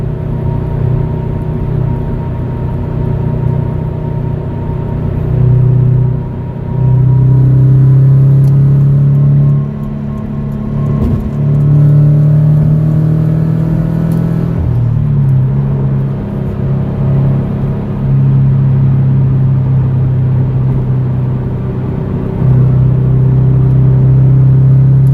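A Scion FR-S with no silencer drones loudly from inside the cabin while merging onto a highway in fifth gear around 4,000 RPM, a steady low engine hum that dips and returns between gear changes.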